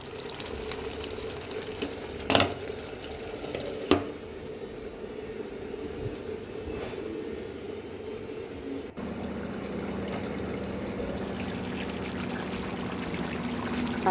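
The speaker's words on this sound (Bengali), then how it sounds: "তো আলুটা দেওয়ার পর আমি একটু একটু করে জল দিচ্ছি আর কষছি" Potatoes being stirred and fried in a pan with small splashes of water added, a steady close sizzle and bubbling with a few sharp clinks of the spoon, and a louder, fuller sizzle after water goes in near the end.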